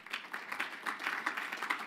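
Audience clapping at a conference keynote, a steady patter of many hands lasting under two seconds at moderate level, with no voices over it.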